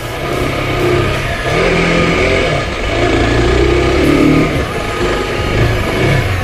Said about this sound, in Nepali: it's only रेभिङ but it is not picking up